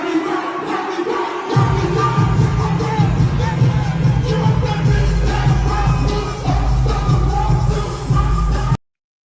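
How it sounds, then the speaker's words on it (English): A live crowd jumps and cheers at an on-stage event, a dense, loud roar with heavy low thumping that kicks in after a quieter opening and holds until a sudden cutoff. "you see the crowd jumping"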